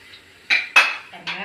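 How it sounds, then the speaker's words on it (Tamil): A metal spoon stirs salt into a little water in a kitchen vessel, giving three distinct clinks against the side amid quiet scraping, close up. "கொஞ்சமாக தண்ணி சேர்த்து உப்பை வந்து நல்லா கரைச்சி விட்டுக்கிறேன்"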